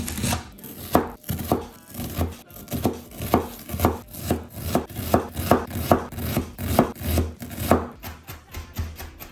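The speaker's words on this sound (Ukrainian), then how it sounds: "Нашого кальмара нарізаємо кільцями і крошимо кріп для подачі" A knife chopping squid into rings and dill for seafood risotto, steady rhythmic board strikes roughly twice a second, close and crisp, continuing throughout with no voices.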